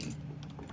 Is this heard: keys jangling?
yes